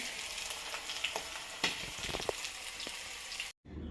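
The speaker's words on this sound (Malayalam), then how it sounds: "വെള്ളമൊന്നും ചേർക്കാതെ ഉള്ളിയൊന്നും ചേർക്കാതെ ഫ്രൈ ചെയ്തെടുക്കുക" Beef fries in a pan, without water or onion added, with a steady, crackling sizzle, broken now and then by a sharper pop or a stir.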